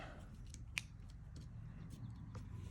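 Scissors snipping off overhanging card paper while making a handmade card, with a few quiet, close cuts including one sharper snip, against a low background hum.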